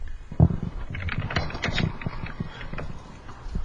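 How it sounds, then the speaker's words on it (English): Typing on a computer keyboard during a radio show broadcast, with irregular bursts of close, clicky keystrokes at an uneven rhythm, fairly loud and alone. "Are you typing something, Stephen?"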